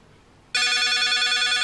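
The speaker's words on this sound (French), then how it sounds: "là je vais le faire sonner avec mon application. On dirait que le chien il a un téléphone avec lui." A loud electronic ringtone from a dog's GPS tracker, set off from a phone app, suddenly starts and rings continuously, close and bright, with nothing else audible.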